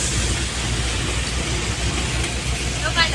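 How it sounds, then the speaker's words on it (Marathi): A heavy downpour hisses in a dense, unbroken roar across a mountainside with water gushing down the slopes, loud and close throughout, with a brief voice near the end. "कसला पाऊस पडलाय, कसला भारी पाऊस पडलाय"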